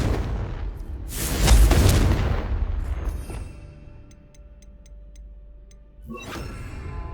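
The Confringo explosive spell goes off in the Hogwarts Legacy game, a loud booming blast with a rumbling roar that fades into faint ticking debris, then another burst of noise near the end.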